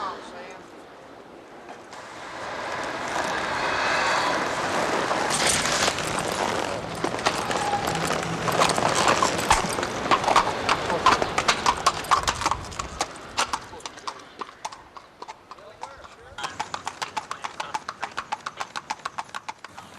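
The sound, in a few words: police horse hooves clip-clopping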